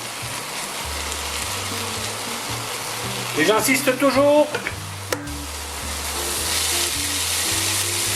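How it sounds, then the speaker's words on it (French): Braised veal tendrons and vegetables sizzle steadily in a pan for a Provençal dish, with a close, rain-like crackle running throughout. Someone speaks briefly in French over the frying. "Quand ça commence à grésiller comme ça, c'est que ça devient bon."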